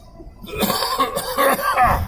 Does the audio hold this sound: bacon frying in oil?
no